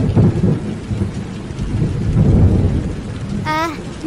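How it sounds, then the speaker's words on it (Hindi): Heavy rain pours steadily through a thunderstorm, with deep rolling thunder rumbling beneath the downpour; near the end a brief high warbling tone cuts in over the storm. "तभी अंधेरा हो जाता है और बारिश शुरू हो जाती है"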